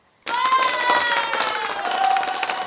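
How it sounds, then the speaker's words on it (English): A canned applause effect triggered from a switcher button bursts in abruptly and holds as a steady, loud wash of clapping and crowd cheering. "I have this applause button."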